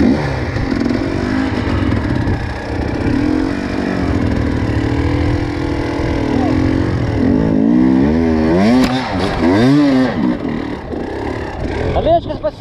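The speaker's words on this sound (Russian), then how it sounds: "Водный скутер!" A jet ski engine runs loudly and close, its pitch wavering and revving harder toward the end, with people shouting and talking over it outdoors.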